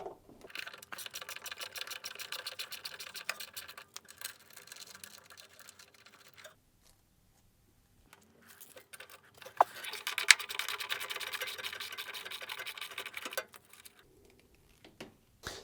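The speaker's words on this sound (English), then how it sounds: "Undo the two 10mm bolts using your 10mm socket and ratchet." A 10mm socket and ratchet undo the motor bolts on a Hoover washing machine, giving rapid, faint clicking ratchet runs in two bursts separated by a short pause, close up and without talk.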